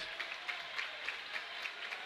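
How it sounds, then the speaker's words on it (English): Basketball fans in a high school boys' gym clap in a steady rhythm, the pulses soft and distant and evenly spaced over a faint room hum. "both fan bases start to clap"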